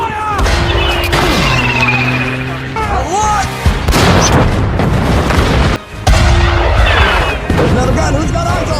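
Heavy gunfire and booming explosions fill a chaotic World War II tank battle scene, with bursts of shots, whistling tones and loud blasts throughout.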